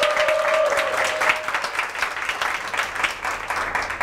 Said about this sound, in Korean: 우리 청년들에게도 박수 한번 쳐주시기 바랍니다.